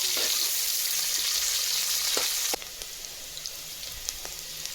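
Onions sizzle steadily in hot oil in a pan for chicken biryani, a loud dense fry that drops noticeably quieter halfway through, with a few faint clicks of a spoon.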